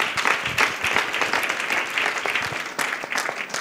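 Applause from a church congregation clapping for Jesus Christ during a sermon, a dense steady patter of many hands sustained throughout, fairly loud and close.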